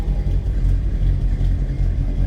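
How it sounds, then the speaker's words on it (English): A 1964 Buick LeSabre estate wagon idles with an aftermarket cam, giving a steady, loud low rumble with a faint lope throughout, with no other sounds over it. "Let's listen to this. Does have that cam. Little lobe, little rumble."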